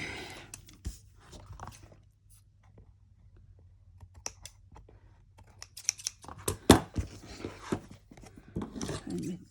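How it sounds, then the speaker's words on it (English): Scissors snip paper for a junk journal in a handful of sharp, close clicks and cuts, separated by quiet pauses and light paper handling. "I'll use the scissors so I don't do what I just did with the front."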